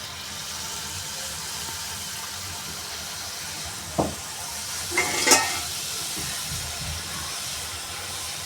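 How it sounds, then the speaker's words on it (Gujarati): A steady, soft sizzle of fafda strips frying in oil, broken by a few brief splashes and clinks partway through. "હવે આપણે એને તળીશું"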